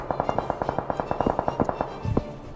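A rapid automatic weapon in PUBG Mobile fires an evenly spaced string of sharp shots, close and steady, ending in a tight final cluster, with no voices.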